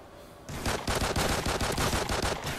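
Rapid automatic gunfire from the Call of Duty Ghosts video game erupts suddenly and rattles on in dense, close bursts of shots for about two seconds.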